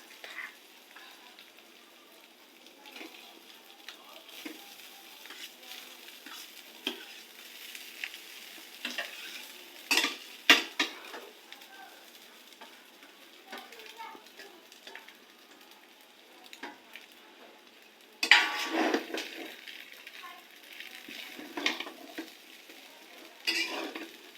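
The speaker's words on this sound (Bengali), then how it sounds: "ডিমটা ভাজা ভাজা হয়ে গেলে এবার দেব ভাত।" Rice being stir-fried with fried egg in a pan, a soft continuous sizzle under repeated scraping and clinking of a spatula against the metal, with a louder burst of frying near the end.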